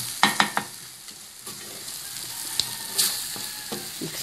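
Kefta stuffing with onion sizzles in hot oil for stuffed eggplant, a steady hiss punctuated by sharp clacks of a spoon against the pan.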